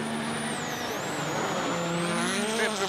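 A Hyundai rally car driven by Hänninen on a special stage of the 2014 Rally Sweden screams past with a high, rising and falling engine note, revving hard through the gears as it nears and passes.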